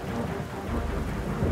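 Heavy rain pours down with rumbling thunder during a storm over the water at a redfish kayak fishing tournament, a dense, loud, continuous roar with low rolling rumbles.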